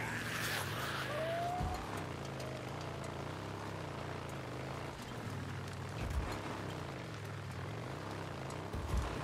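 A motorcycle rides and skids in the video game Days Gone, a low engine drone running throughout with a brief rising tire squeal near the start and a few soft thuds, fairly quiet.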